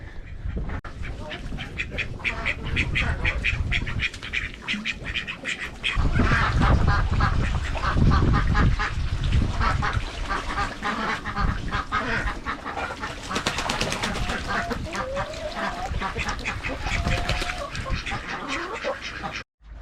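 Ducks and geese of exotic waterfowl breeds quack and honk continuously inside a shed, a busy overlapping chorus of calls at close range that carries steadily throughout without talk.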